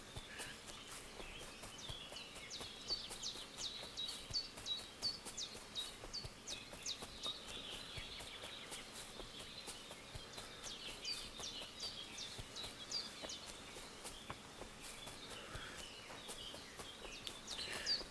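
Birds chirp and tweet steadily in the ambient soundscape of the video game Kingdom Come: Deliverance II, bright repeated calls carrying through the whole stretch at moderate level, with faint hoof clip-clop sounds now and then.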